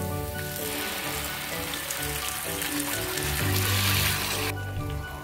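Onion paste fries in a pan with ginger and garlic, giving a loud, steady, dense sizzle that barely changes throughout, up close and with no voices.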